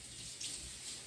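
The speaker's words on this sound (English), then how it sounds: "I'm gonna wash my hands since I just did the jalapenos" Faint, steady rush of water from a running kitchen tap as hands are rinsed after cutting jalapenos, an even hiss with no other sounds.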